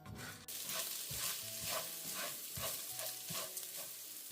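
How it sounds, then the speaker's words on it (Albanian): Rice and onion frying in a hot pan off the flame, with a soft continuous sizzle and repeated rhythmic scrapes of stirring, close and fairly quiet. "E shtojmë tani orizin te qepa dhe në tiganin e nxehtë vazhdojmë e fërgojmë për 2-3 minuta."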